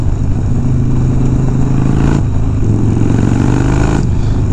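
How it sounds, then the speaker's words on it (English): A police motorcycle engine idles and runs continuously up close, a loud, rough, throbbing rumble with slight swells in pitch, no voices over it. "just let the bike run"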